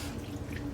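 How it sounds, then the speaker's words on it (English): Chicken broth made from water and bouillon pours into a pan in a brief, steady liquid splash, close and continuous, with no talking. "we're going to add 1 cup, 240 milliliters of chicken broth"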